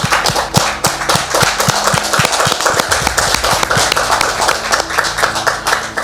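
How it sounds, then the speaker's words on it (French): A studio audience claps continuously, a loud, dense patter of hands with some rhythmic, evenly spaced claps running through it and a low hum beneath. "Est-ce qu'on peut faire mention spéciale pour elle par des applaudissements s'il vous plaît?"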